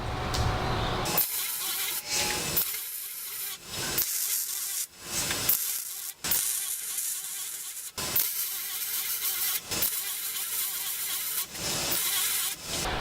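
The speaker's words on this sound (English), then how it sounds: "let's start to tack this thing up. So I'm going to weld it up." Steady, loud crackling hiss of welding on a large steel plant stand, running in long stretches broken by several brief pauses, close up.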